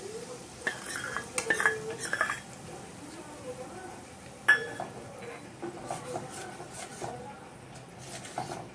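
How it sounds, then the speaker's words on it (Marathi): A spoon scrapes and clinks against a cooking pan while horse gram flour is added and stirred in for Malvani pithla, making irregular close metallic taps and soft stirring sounds. "आता आपण हे पीठ घालून घ्यायचं आहे."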